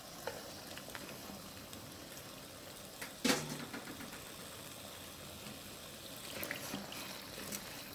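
Wet potatoes frying in a pan over high heat, a steady loud sizzle with occasional stirring scrapes and a sharp clatter partway through.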